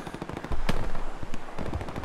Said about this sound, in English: You'll hear the shot, man.